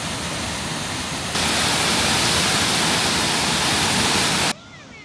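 Jägala waterfall in North Estonia roars as a loud, steady broadband rush of falling water that swells sharply partway through, then drops off abruptly near the end.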